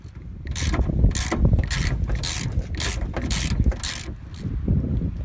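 A ratchet wrench working a bolt loose under the fender of a 1998 Chevy pickup, a series of rhythmic clicking, rasping strokes close to the listener, about eight pulls in quick succession.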